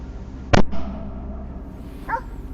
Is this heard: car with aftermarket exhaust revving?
no